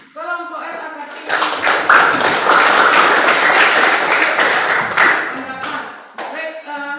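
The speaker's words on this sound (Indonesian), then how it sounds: "kita berikan tepuk tangan buat kelompok RA Kartini." Classroom audience clapping for a student group in a chemical engineering class, a sustained burst of applause lasting several seconds between stretches of teacher talk.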